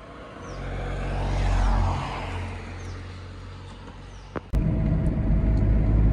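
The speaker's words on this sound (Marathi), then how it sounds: "ही आमची गाडी आहे।" A car driving through the Wayanad forest in Kerala gives a steady, close engine and road rumble that swells and eases. It ends in a sharp knock followed by louder, rougher low noise.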